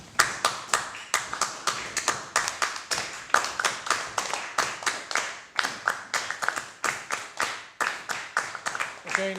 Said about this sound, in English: I want you to clap the rhythm